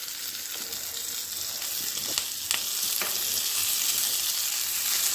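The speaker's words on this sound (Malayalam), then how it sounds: "ഇനി നമുക്ക് ഇതിലേക്ക് വേവിച്ച് വെച്ച മത്തനെല്ലാം ചേർത്ത് കൊടുക്കാം" Cooked pumpkin goes into browned coconut frying in coconut oil for a pumpkin and cowpea erissery, with a steady bright sizzle throughout and a few sharp spatula clicks as it is stirred, no voices.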